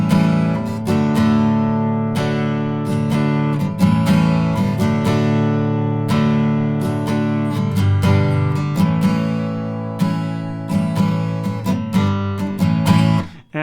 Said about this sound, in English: So the whole strumming part sounds like this